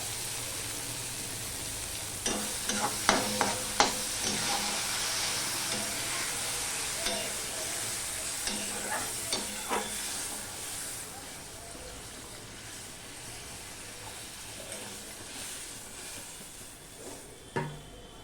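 Spice paste for a pomfret fish curry sizzling and frying in oil, with scattered stirring clicks and crackles over a steady hiss.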